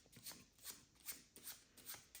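A deck of playing cards being shuffled during a card trick, a string of soft riffling bursts at a steady rhythm, close and fairly quiet, with no speech.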